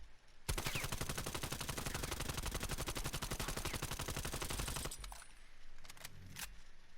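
An AS-VAL rifle fires in Cold War Zombies as one long, rapid, loud full-auto burst lasting about four and a half seconds, followed by a few faint clicks and mechanical handling sounds.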